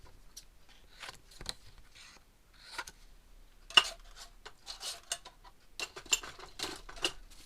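Leftover paper triangles trimmed smaller with scissors, giving a scattered run of short, sharp snips and light clicks spread irregularly through a quiet tabletop setting, with no talking.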